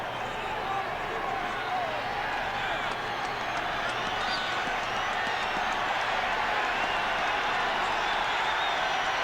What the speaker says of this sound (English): Crowd starts up, and they can start up big time here at Mile High